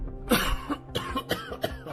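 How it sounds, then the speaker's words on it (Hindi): A person fakes a series of slow, quiet coughs as a secret signal in a Hindi audio drama, four or five short close coughs with brief throat-clearing rasps, no other voices. "धीरे धीरे खांसने का नाटक कर अपने दोनों साथियों को सिग्नल दिया।"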